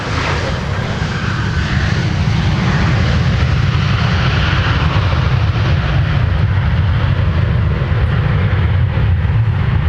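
A Delta Boeing 737-900ER jet touches down at Minneapolis–Saint Paul airport, a loud continuous engine roar with deep rumble held for the whole span, no voices.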